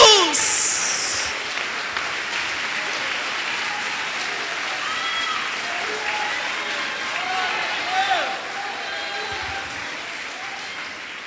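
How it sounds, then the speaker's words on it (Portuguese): A church congregation applauds continuously during a sermon, a dense, even roar of many hands clapping that holds steady at moderate loudness before slowly tapering off. "Aplauda Jesus."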